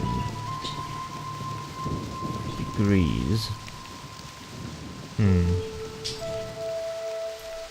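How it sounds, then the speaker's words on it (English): Steady rain hiss in the Myst video game, with low rumbling thunder-like swells and a few tonal game sounds layered over it; a voice says a single word briefly. "Good job on activating book rain."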